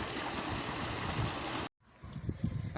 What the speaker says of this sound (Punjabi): ਇਹ ਸਿਰਫ ਦਿਖਾਉਣ ਵਾਸਤੇ ਅਸੀਂ ਚਲਾਇਆ ਵੇ ਤੇ ਵੇਖਣ ਵਾਸਤੇ ਵੀ ਪਾਣੀ ਕਿੰਨਾ ਕੁ ਦੇ ਰਿਹਾ